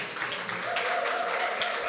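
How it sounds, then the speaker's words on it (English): Applause from an audience at a gender equality consultative forum, a soft, steady patter of many hands that sounds fairly distant and lasts about two seconds. "Let's give them a round of applause."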